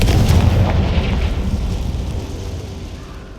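A Confringo blasting spell erupts in the Hogwarts Legacy game, a loud booming blast that rolls into a long rumbling decay over several seconds with no voices.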